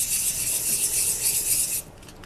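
Steady hissing rasp of wet/dry sandpaper rubbing over a faux New Zealand abalone piece, continuous and close for nearly two seconds, then cutting off to quiet.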